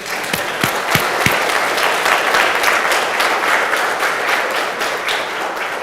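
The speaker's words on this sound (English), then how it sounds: "So I think that right there deserves a round of applause." Audience applause at a college state-of-the-address event celebrating program pass rates: a few sharp separate claps at first, then dense, steady clapping that holds at even volume for several seconds.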